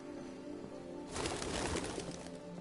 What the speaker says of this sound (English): there's a lot of white birds flying around.